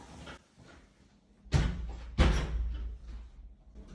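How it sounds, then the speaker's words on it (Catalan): An armored apartment door with four locking points shutting, two heavy thuds about half a second apart, the second one louder, followed by a fading rumble. "La porta és blindada i té 4 punts d'anclatge."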